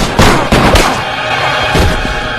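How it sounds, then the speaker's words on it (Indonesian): Police gunfire from the film I Spit On Your Grave 3 bursts out as a quick string of loud, close bangs and cracks followed by a rumbling, noisy tail. "tiba-tiba si polisi nongol dan langsung memberedetnya peluru sampai meninggoy"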